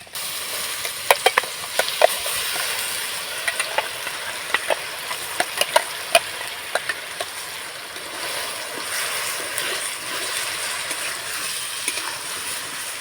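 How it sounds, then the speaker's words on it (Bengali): Grated ginger and carrot paste fry in a kadai, a steady close sizzle punctuated by repeated sharp clicks and taps of a spoon stirring, with no talking. "আদাটা একটু হালকা করে ভেজে নেব এবার যে গাজরটাকে আমি পেস্ট বানিয়েছি সেটা দিয়ে দেবো কড়ার মধ্যে"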